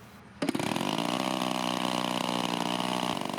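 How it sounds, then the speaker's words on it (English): A twin-cylinder gas engine on an RC Shock Cub plane catches abruptly and settles into a steady, close, buzzing idle that holds evenly for several seconds. "Eventually, the engine got with the program and sprang to life."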